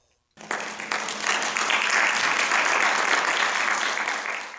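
Conference audience applause at the 2016 ICET Seoul International Conference at Korea University, breaking out suddenly after a brief silence and holding as a dense, steady wash of many clapping hands for several seconds before easing slightly.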